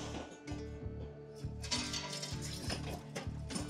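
An injection molding machine turning out plastic cams for oven selector switches rattles and clicks in rapid, rhythmic mechanical bursts, like ratcheting gears, close and continuous with no talk.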